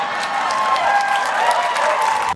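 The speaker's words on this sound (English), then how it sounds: "Let's punch in the fake applause." Canned applause sound effect punched in during a live comedy stream, a continuous dense burst of clapping lasting a couple of seconds, fairly loud and even, cutting off abruptly.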